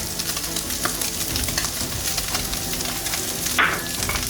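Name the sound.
seasoning mix frying and being stirred in a pan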